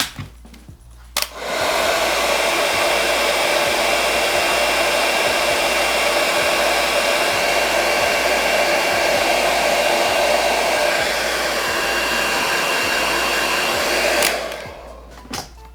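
A 1300–1500 W hair dryer plugged into a 220 V wall outlet switches on with a click and blows a loud, constant airy roar for around thirteen seconds, then shuts off.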